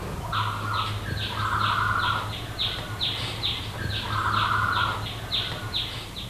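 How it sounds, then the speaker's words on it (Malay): One-day-old ostrich chicks in a heated brooding pen give repeated high, whistling peeps in an uneven rhythm over a low steady hum, close and moderately quiet. "Ini anak burung unta yang berumur 1 hari."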